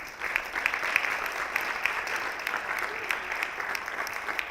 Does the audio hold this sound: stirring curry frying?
no